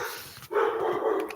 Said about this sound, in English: Yo, and some dog barks.